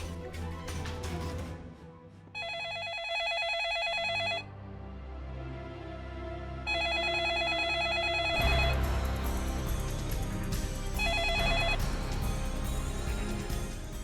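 A telephone rings in repeated electronic bursts, trilling tones starting and stopping over background music in a TV drama scene, with no voices.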